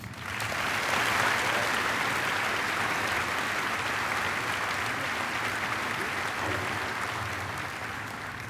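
A high school commencement audience gives the valedictorian loud, sustained applause: a dense, steady roar of many hands clapping at once from start to finish, with faint crowd murmur mixed in.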